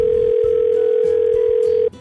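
A phone line tone is heard during call connection: one continuous steady tone, loud and close, that cuts off abruptly near the end.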